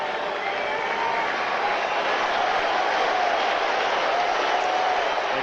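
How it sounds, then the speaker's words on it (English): Crowd noise swells through a packed baseball stadium during the 1980 Astros–Dodgers game 162, a broad, continuous roar of cheering and clapping that holds steady for several seconds with no distinct voice on top. "The crowd now responding to every twitch."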